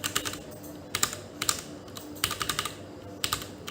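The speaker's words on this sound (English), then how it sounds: "that is the noise that the brown switch made" Typing on a Paradox Gaming Ghost IBM68K mechanical keyboard with brown switches, with close, crisp key clacks coming in uneven bursts of several strokes separated by short pauses, and no talk.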